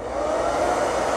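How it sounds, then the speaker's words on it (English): A hair dryer blows steadily at close range, drying glued rocks on a painted miniature base for a Star Wars Legion speeder truck; the even airflow roar holds at one loud level throughout with no talk. "turn on your hair dryer"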